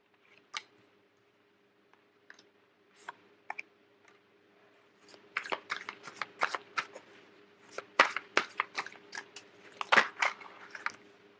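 Tarot cards being shuffled and handled, first scattered soft clicks and snaps, then a denser run of crisp riffling taps close by in a quiet room.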